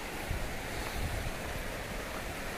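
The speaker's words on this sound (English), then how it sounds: "here's the mouth of Bertha Creek as it comes in" Creek water flowing steadily at the mouth of Bertha Creek in Alaska, a dense continuous rushing wash close by and constant in level, with no voices.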